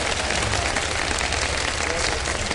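A studio audience on a Ramadan game show breaks into dense, sustained applause, loud and continuous from start to finish.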